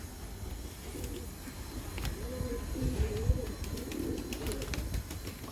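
Pigeons coo softly in low, rolling phrases, several calls overlapping against a steady background hiss with faint clicks.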